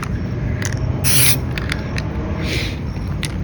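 A spray paint can sprays onto a 20 by 24 inch canvas in short hissing bursts, a longer blast followed by several quick puffs, close and loud over a steady background rumble.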